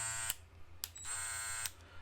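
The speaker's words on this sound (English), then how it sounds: "I love just a little subtle beep, just to let you know that thing on." A new Babyliss barber clipper gives a short, thin electronic beep, then a longer tone, over a low motor hum, with a few sharp clicks from close handling and no speech.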